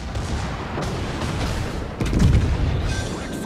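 A torpedo strikes a ship in the naval game World of Warships and sets off a deep booming explosion, a loud low burst that surges after a rumbling stretch of battle noise, with no talking.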